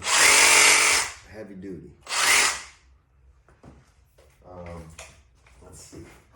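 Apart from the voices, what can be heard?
Makita 18v brushless Sawzall reciprocating saw running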